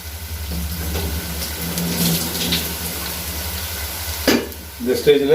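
Onions sizzle steadily in a frying pan while being cooked down for Kayalpattinam-style mutton biryani, a close, continuous crackle with occasional stirring scrapes near the end.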